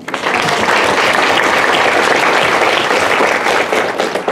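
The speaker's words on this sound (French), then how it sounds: "je pense qu'on peut l'applaudir" An audience applauds continuously, a dense wash of clapping hands that holds steady before thinning slightly at the end.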